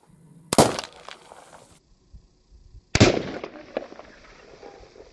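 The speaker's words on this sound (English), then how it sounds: "Maybe I'll take a shot or two in this position just to see what happens." A muzzleloader with a folding stock fires two loud, sharp shots about two and a half seconds apart. Each blast is followed by a short decaying rumble, with quiet outdoor background between them.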